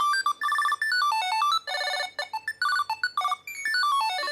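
A Tile Bluetooth tracker plays a bright electronic ringtone, a quick melody of clear beeping notes with brief gaps, loud and close with nothing else over it.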